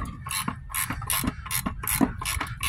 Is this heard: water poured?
no